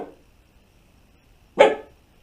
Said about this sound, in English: my dog is barking because he thinks he hears something